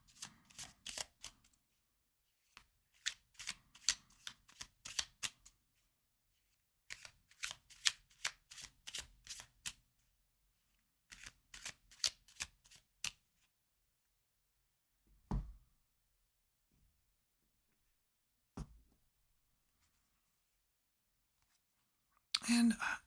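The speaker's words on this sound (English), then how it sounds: "And when I was shuffling," Tarot cards are shuffled in several quick riffling bursts, crisp and close, separated by quiet pauses, with a couple of soft knocks near the end.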